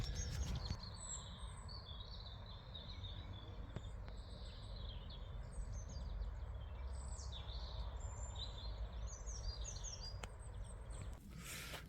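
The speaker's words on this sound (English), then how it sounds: "It's good to hear the birds out." Several birds chirp and whistle in short bursts over a steady outdoor hum of insects on a countryside hike near Tilford, moderately distant, with no one talking.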